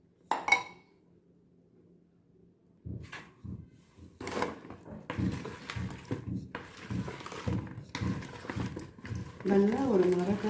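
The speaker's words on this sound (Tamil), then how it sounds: "நல்லா ஒரு மரக்கரண்டி வச்சு" Wooden spoon stirring whole baby mangoes in a bowl for pickling, giving a run of close, irregular knocks and scrapes that grows busier toward the end, with no talking over it.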